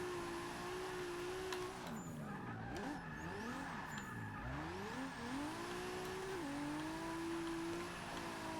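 A Toyota Supra MKIV in Forza Motorsport 6 drifts, its engine note rising and falling with revs while tires squeal through the slide, steady and close with no talking.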